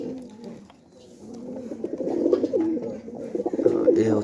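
Captive pigeons, including newly caught birds with bound wings, coo in low throaty bursts close by, the rolling calls repeating and growing stronger toward the end.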